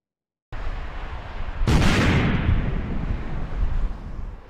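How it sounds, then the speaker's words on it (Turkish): A bomb-laden motorcycle detonates in the town of Al-Bab: after a steady windy hiss, a sudden loud blast erupts and gives way to a long, heavy roaring rumble. "Bomba yüklü motosiklet patladı."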